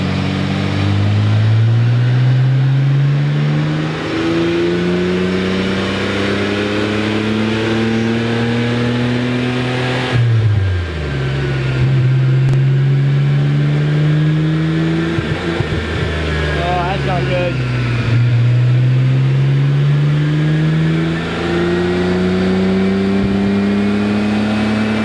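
Nissan Skyline GT-R engine revving hard on a dyno, loud close runs that climb steadily in pitch, drop sharply between pulls, then climb again across repeated rising sweeps.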